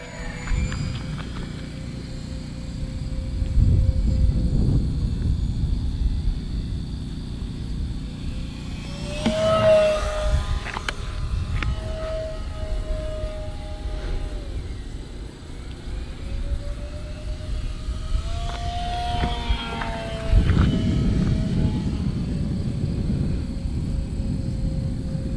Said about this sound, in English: I'm going to try to see if I can give you guys about 30 solid seconds of quiet airplane